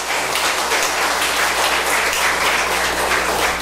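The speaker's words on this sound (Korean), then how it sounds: "우리 목사님 박수로 맞이하겠습니다." A church congregation applauds to welcome the pastor at a Korean worship service, loud, dense and even clapping that fills the room at a constant level from start to finish, with a low hum beneath.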